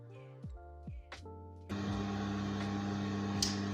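A sewing machine stitches patchwork fabric. A few short, quiet mechanical bursts come first, then the machine settles into a continuous whirring run with a steady motor hum.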